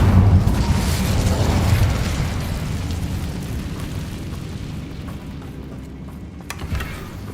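A fire spell cast in Hogwarts Legacy, a loud roaring burst of flame that swells at the start and then slowly fades over several seconds, with a faint crackle near the end.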